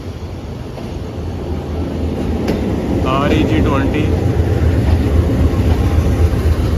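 The Shalimar Express rumbles and rattles continuously as it rolls into the Lahore railway junction yard, loud and close with a steady low drone and brief squealing wheel tones, while a voice speaks briefly over it.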